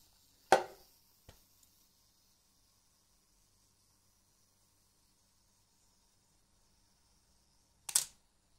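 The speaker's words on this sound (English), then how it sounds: "it's a self timer, it's completely mechanical" A Nikon FM2 mechanical film camera clicks sharply as its self-timer is triggered. A long quiet stretch follows, then the shutter fires with a second crisp snap, close and alone.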